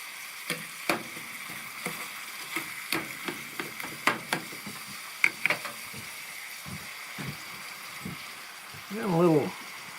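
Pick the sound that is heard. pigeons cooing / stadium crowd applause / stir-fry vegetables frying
stir-fry vegetables frying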